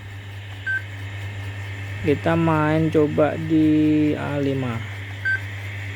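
Buttons on the keypad of a Yaesu FT-2900 transceiver give a run of short electronic beep tones. Someone talks over them above a steady hum.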